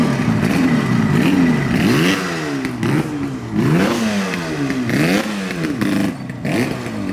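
A Yamaha RD350 two-stroke motorcycle engine revs repeatedly, pitch swooping up and down in loud, close bursts with a rough, rattling idle between throttle blips.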